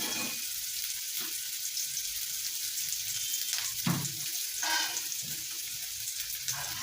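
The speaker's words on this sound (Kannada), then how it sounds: "ಇಲ್ಲಿ ನಾನು ಉಳ್ಳಾಗಡ್ಡಿ ಹಾಕೊಳತ್ತೀನಿ ರೀ." Chopped onion fries in a pan for a North Karnataka breakfast dish, a soft steady sizzle with intermittent stirring clatter, heard close up with no speech.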